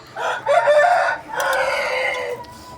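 A rooster crows twice in succession, loud and close, with some clucking around the calls.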